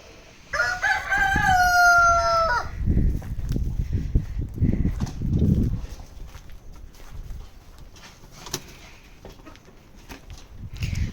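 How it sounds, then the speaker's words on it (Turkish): A farm rooster crows once, loud and close, its long wavering call followed by clucking and rustling from nearby chickens. "Şu horoza bakın."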